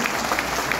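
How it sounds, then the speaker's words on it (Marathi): Audience clapping at a Shiv Sena workers' rally in Amravati, a brief steady patter of many hands at moderate distance with no voices over it. "सगळ्यांनी जोरदार टाळ्या वाजवून"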